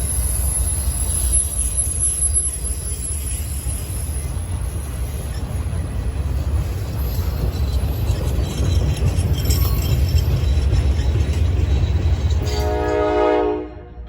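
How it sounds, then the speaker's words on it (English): Norfolk Southern manifest freight train 32N, led by Union Pacific and BNSF locomotives, rumbling past close by with heavy wheel noise and a sharp horn, fading at the end. "The first train to come was NS Manifest Train 32N, which comes out of Decatur, Illinois, and terminates in Conway, Pennsylvania."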